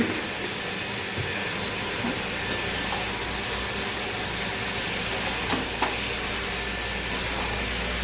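Meat frying in a pan with ground spices, ginger, garlic and salt, giving a steady, close, continuous sizzle with faint stirring scrapes throughout.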